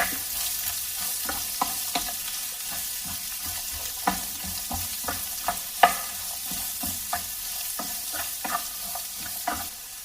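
Onions sauté in a pan for fish curry, a steady close sizzle punctuated by regular spoon scrapes and taps as they are stirred, with no voices.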